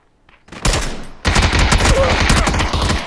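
Automatic gunfire in PUBG bursts in loud and close after a near-silent start: a short rapid volley, a brief gap, then a long dense stream of shots.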